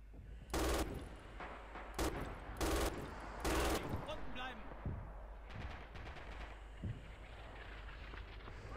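Gunfire from a cheap, gritty-feeling gun in the video game Red Orchestra 2, loud broadband bursts of several rapid shots at regular intervals, followed by fainter distant shots and battlefield clatter, with a voice talking underneath.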